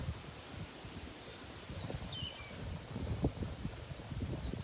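Birds chirp in thin, faint calls over a steady blowy rustle of leaves in the wind on an outdoor walk, with soft footstep-like thuds low underneath.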